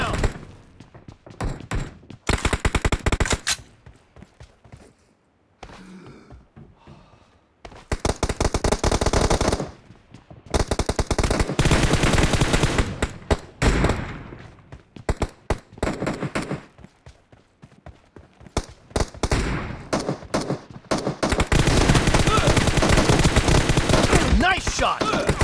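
Automatic gunfire in a team deathmatch video game set in a warehouse, repeated loud bursts of rapid shots separated by quieter gaps, with game voice callouts in between.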